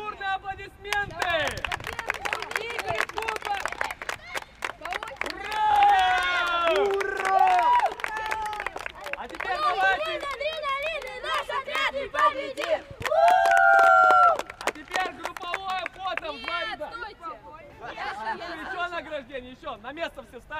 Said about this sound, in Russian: Ну под бурные аплодисменты!